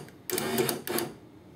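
Power window motor in a 1994–2004 Ford Mustang door, two short whirring bursts as the window is lowered, close and fairly loud.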